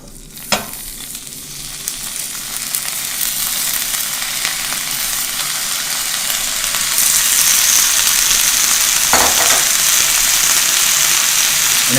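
Frozen vegetables hit a hot pan with sesame oil and sizzle loudly and steadily. The hiss swells partway through, and a couple of sharp clanks come from stirring. Nobody talks.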